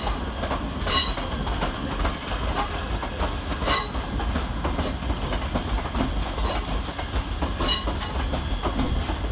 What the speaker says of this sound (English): terminating on the near side is 380003, terminating with a ScotRail service off of Gourock